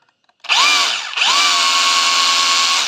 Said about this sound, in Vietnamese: chế độ đục này